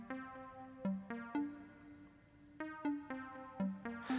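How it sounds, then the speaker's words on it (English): Serum synth lead with ping-pong stereo width, playing a harp pattern: faint, plucky repeated notes in short bursts with gaps, each note decaying quickly, alone without any voice. "So you kind of get this like ping pong back and forth stereo width effect going on"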